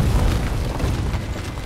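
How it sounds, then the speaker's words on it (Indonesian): A large bomb explosion in an Indian war film set during a battle with enemy troops: a loud, dense, rumbling blast that fills the whole moment with sustained low booming and no pause. "memegang bom ke arah kerumunan pasukan lawan yang seketika memicu ledakan besar"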